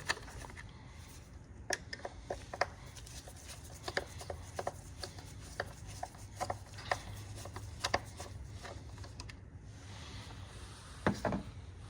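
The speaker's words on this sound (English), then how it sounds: "we're gonna grab our screwdriver, and we're gonna take these two screws out right here." Small metal screwdriver on two screws in a Honda CR-V engine bay, 2017–2022 model, near the mass air flow sensor: repeated faint clicks, scrapes and rubbing taps scattered irregularly over a low background hum, with no talking.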